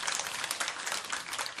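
Applause from a lecture audience at a Buddhist talk, a dense, even patter of many hands clapping at moderate volume, steady throughout with no voices over it.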